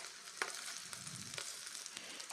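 Boiled eggs and potatoes fry in a pan for an egg curry, giving a steady close sizzle broken by a few sharp stirring clicks and scrapes, with no voices.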